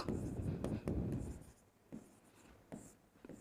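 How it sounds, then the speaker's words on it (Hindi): A marker or chalk writing a question on a classroom board: quick scratchy strokes and taps in an uneven rhythm, close and fairly loud, fading to lighter, sparser marks toward the end. "इस पर मैं क्वेश्चन लिखूं"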